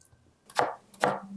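A knife chops cubes of watermelon on a cutting board, giving two close, crisp, wet cuts about half a second apart with no one speaking.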